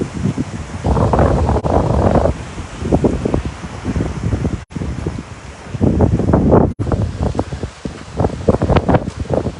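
Outdoor wind gusting hard across the microphone, a loud rumbling buffet that swells and drops in uneven waves with rustling, with no talking.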